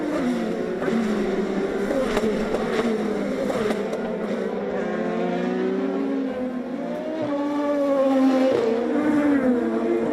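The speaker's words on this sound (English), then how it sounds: "And we enter the final lap of the season opening race for Montoya." IndyCar race cars on the final lap of a season-opening race: continuous loud engine whine with rising and falling pitch as cars pass and shift, steady throughout, no talk.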